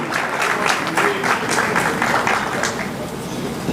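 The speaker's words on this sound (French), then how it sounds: "on applaudit les organisateurs de Tapis Rouge" An audience at the Tapis Rouge gala evening in Brussels applauds the event organisers with full, sustained clapping that stays loud and steady throughout.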